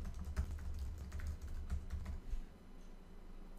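Fingers typing a short description on a computer keyboard for software at a desk, giving soft, irregular key clicks in quick bursts that thin out toward the end, fairly quiet and close, with no voices.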